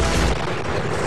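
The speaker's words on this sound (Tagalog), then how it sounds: "Malalakas na pagsabog at walang tigil na putukan ang umalingaw-ngaw sa Tripoli" Explosions and gunfire in Tripoli, Libya, heard as one dense, loud burst of booming noise with heavy low rumble and crackle, sustained across a second with no clear gaps.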